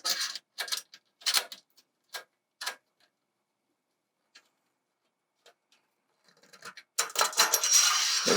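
Tightening the bottom fastener on a greenhouse double side vent: a string of sharp metallic ticks and clicks, spaced irregularly with a quiet pause in the middle, then a denser rustling clatter at the end.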